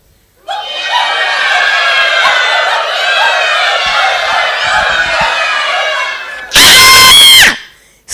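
A storytelling audience imitates a donkey, dog, cat and rooster all at once, a loud sustained chorus of braying, barking, meowing and crowing voices lasting several seconds, ending in a burst of screams.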